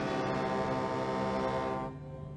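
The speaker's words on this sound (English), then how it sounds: "It was only when they heard his deep whistle of thanks that Theodore and Emily turned for home." A deep tugboat whistle sounds out on the ocean, one long sustained rich-toned blast that cuts off near the end.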